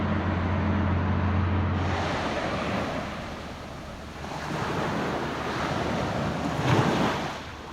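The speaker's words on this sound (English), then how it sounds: "Lovely sound, the waves." Sea waves wash steadily into a bay beside a moored sailboat, a continuous broad surf roar with swelling surges and some wind buffeting on the microphone, no voices.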